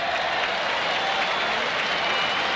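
A tennis crowd at the 1987 US Open final between Lendl and Wilander breaks into sustained applause and murmuring that fills the stadium and holds steady throughout.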